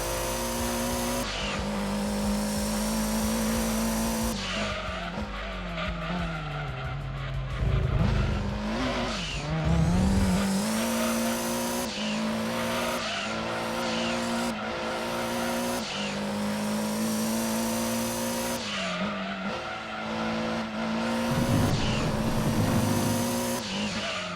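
A race car laps Laguna Seca in a Gran Turismo 2 endurance race on the PS1. The engine holds a steady, loud drone that rises and falls through gear changes. Tires squeal and skid through the corners, with no talking.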